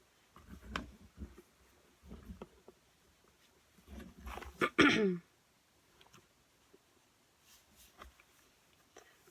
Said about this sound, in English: I seem to be having trouble with clearing my throat today